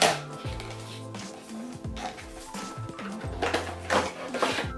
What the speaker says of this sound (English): I'm going to open up the box.